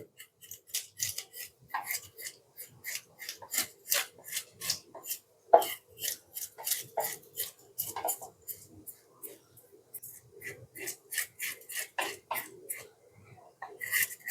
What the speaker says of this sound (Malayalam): ഇവനെ ഒന്ന് ഫ്രഷ് ആക്കി എടുക്കലാണ് ഇവനെ ഒന്ന് കട്ട് ചെയ്തെടുക്കാം നല്ല ചെതമ്പലുണ്ട്